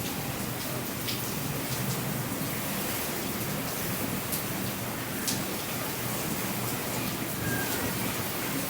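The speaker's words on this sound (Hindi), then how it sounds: "बारिश आ रही है फुल।" Heavy rain pours down steadily and loudly, a dense continuous hiss with scattered sharper drop impacts throughout, with no voices.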